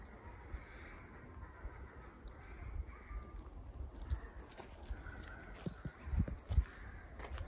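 Crows caw faintly in the distance amid quiet pine forest ambience, with soft rustling and a few footsteps close by.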